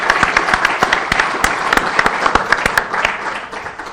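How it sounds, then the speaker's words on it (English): A research symposium audience claps for an honoree, dense steady applause with individual sharp claps standing out near the front, loud and unbroken throughout. "why don't we give a round of applause to Mike"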